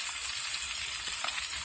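Fish, onions and mushrooms fry together in a skillet with a constant close sizzle and crackle and no pauses.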